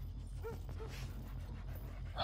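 A guard dog in the Splinter Cell Blacklist stealth game gives a couple of short yips and whimpers, fairly faint against a steady low in-game hum.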